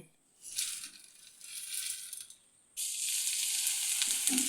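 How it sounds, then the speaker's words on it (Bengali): Flattened rice (chira) frying in hot oil inside a metal strainer, a crackling sizzle that swells, dips briefly, then surges into a louder, steady hiss. "এইভাবে ছাঁকনির সাহায্যে চিরাগুলি ভাজলে ঝটপট করে ভাজা হয়ে যায়"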